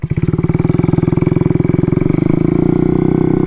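Honda Ruckus scooter engine that won't idle properly runs close and loud, its rough rapid pulsing chugging on without settling, then rising slightly and holding a steadier buzz near the end.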